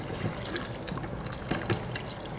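Water pours into an electric pressure cooker for a Kerala-style chicken curry gravy, a steady close trickle and splash running throughout.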